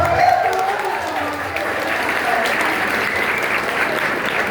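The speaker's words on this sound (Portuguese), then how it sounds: "Vai merecer aplauso pela pergunta" Anime convention crowd applauding a question during a panel with a Brazilian voice actress at Expoanime Cariri: steady, close, fairly loud clapping that holds evenly throughout, with faint crowd voices mixed in.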